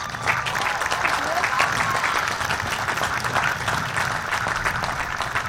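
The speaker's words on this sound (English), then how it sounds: "Could you give them a round of applause?" Sustained applause from a large audience at a McMinnville High School graduation ceremony, steady dense clapping filling the hall throughout with some faint voices mixed in.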